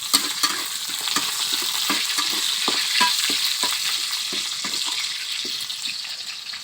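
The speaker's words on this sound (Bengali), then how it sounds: "আমি এখন ভাজি করব এই যে লাউ ভাজিগুলো" Chopped bottle gourd is added to onions already browned in a pan, giving a steady, close sizzle of frying broken by regular scraping strokes of a spoon stirring.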